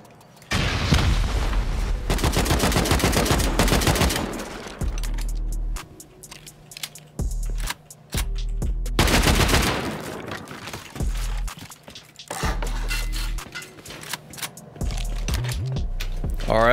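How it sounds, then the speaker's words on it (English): A rocket launched against beds during a base raid in a survival video game, heard as loud booming blasts in two bursts with heavy low rumble, separated by quieter stretches of clatter and rummaging. "Screw it, I'm sending a rocket against these beds."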